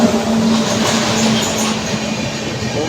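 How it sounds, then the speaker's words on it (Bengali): The New Farakka Express pulls into a station as a loud, steady rail rumble with a low humming tone running underneath and no voices. "আমাদের ট্রেন ঢুকছে।"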